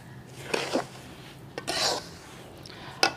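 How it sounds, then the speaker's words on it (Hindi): Chana dal halwa being stirred with sugar in a pan, a few separate scraping strokes of a spoon against the metal, close and quiet, with short pauses between them. "अब इसको भी दोबारा से मिक्स कर लूँगी"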